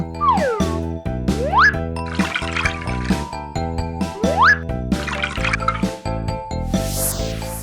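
Cartoon sound effects of liquid being mixed into milk: bright plinking drips, rising slide-whistle swoops and sparkly tinkles over a bouncy musical backing, repeating in quick playful bursts.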